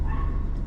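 A dog named CeCe barks and yips in one short, loud, close burst at a rental home in Huatulco, Mexico.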